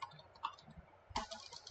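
Keys on a computer keyboard are tapped in a few quiet, irregular clicks, close and soft, with a short pause between two small bursts.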